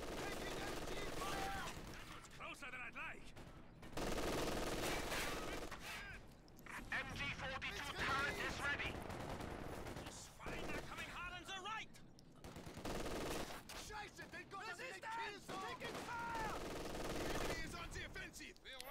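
Bursts of machine gun fire ring out repeatedly in a World War II Wehrmacht strategy game battle, dense rattling volleys broken by brief pauses, with a commentator talking over the action.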